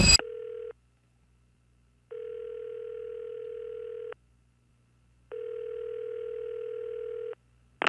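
A telephone dial tone sounds alone in three steady, flat beeps of uneven length separated by silent gaps, clean and moderately loud with brief clicks at the start and end.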